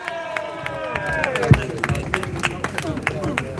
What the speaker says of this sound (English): Everyone give a round of applause, please.